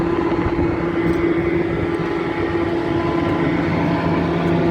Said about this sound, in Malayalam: ഇവിടെ നമ്മുടെ ജനറേറ്റർ ഓൺ ആയതുകൊണ്ടാണ് ഇത്രയും സൗണ്ട്